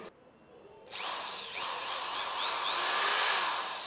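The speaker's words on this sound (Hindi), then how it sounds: "ये मेरे पास है स्क्रू ड्रिल मशीन ठीक है मतलब कि स्क्रू को ओपन करने की और क्लोज करने की मशीन" An electric screw drill opens the screws of a Korean ice cream machine. After a short quiet start it starts up with a sharp whine and then runs as a steady, close, rising hum, with no voices.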